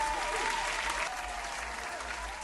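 Applause from a crowd on a live stream plays as a steady, even wash of clapping throughout, moderately loud and without any voices on top.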